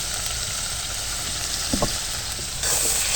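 Ground turmeric, coriander and cumin fry and spatter in hot oil in a pan while a bottle gourd paneer dish is cooked, a steady close sizzle with a brief stir partway through.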